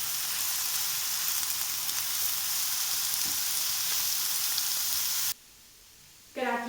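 Mushrooms frying with grated carrot in a pan give a continuous bright sizzle that cuts off abruptly near the end, after which a short burst of voice is heard.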